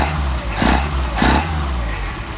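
A Mercedes 190SL engine running on Solex carburetors idles steadily, with two short rises in revs in the middle that fall back to a steady idle, loud and close, with no voices.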